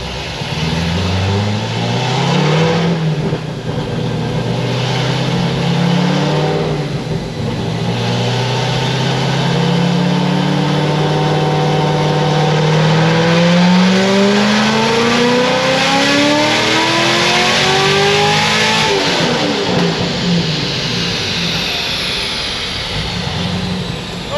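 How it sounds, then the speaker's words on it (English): Supercharged LS7 V8 in a C6 Corvette Z06 making a dyno pull, loud and close, rising through the revs in long climbing sweeps with a brief dip partway, then backing off near the end; no talking. "While it's sitting here on the dyno, I'm gonna make a pull and see what it does."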